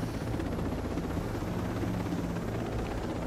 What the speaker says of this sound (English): I think everyone's in the chopper.